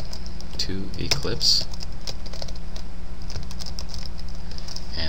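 Quick, light clicking of keys on a computer keyboard at a desk, a short burst of typing heard faintly under someone speaking over a steady low hum.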